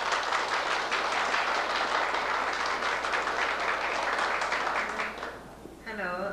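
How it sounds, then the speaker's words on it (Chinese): An audience applauds at the opening ceremony of a Thai royal portrait exhibition, a dense, steady crowd clapping that runs for several seconds before fading as a voice begins. "给这里掌声欢迎"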